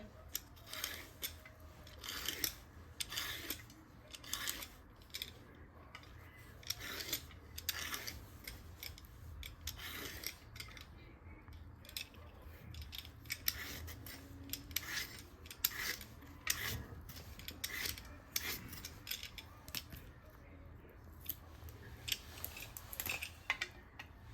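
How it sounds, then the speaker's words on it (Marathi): Ridges being peeled off a ridge gourd in a home kitchen, heard as many short, crisp scraping strokes in quick, irregular succession, close and fairly quiet, with no voices. "आता आपण हे ज्या शिरा आहेत त्याच्या अशा सोलून घ्यायच्या।"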